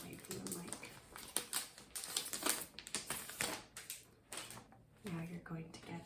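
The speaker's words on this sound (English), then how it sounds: "I hope the crinkles aren't too loud." Sticky plastic embroidery kit packages crinkle and crackle close to the microphone in irregular bursts and handling snaps, fairly quiet overall, with a voice speaking softly at times.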